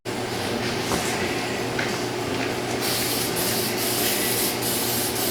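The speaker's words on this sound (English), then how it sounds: "I'm going to spray these down with some copper coat and let them dry a little bit," Steady aerosol hiss of copper coat sealant being sprayed onto engine head gaskets for a 1969 Firebird 400 HO clone, continuous and close, with a few short bursts near the end.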